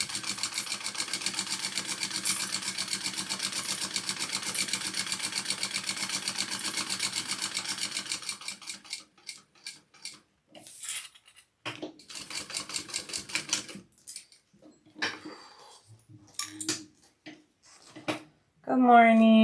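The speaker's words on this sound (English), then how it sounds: "I am just top stitching and then basting it all closed." A sewing machine top stitching and basting a fabric sling closed runs in a fast, even stitching chatter for several seconds, then stops and restarts in short bursts amid handling clatter, with a voice speaking briefly near the end.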